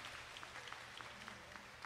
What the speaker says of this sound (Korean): もう一度大きな拍手をお送りください